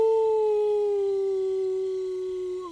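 A single long, drawn-out howl glides slowly downward, loud and close, like a voice imitating dogs howling in the distance at night.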